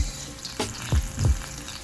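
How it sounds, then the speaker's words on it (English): A brief burst of fish sizzling in hot oil in a garage, close by, with a couple of low bumps and splashes. "I am in my garage to fry all these fish"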